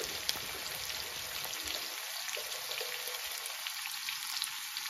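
Potatoes and spices sauté together in a pan, a dense continuous close hiss of frying with faint scraping, steady in level and with no one speaking.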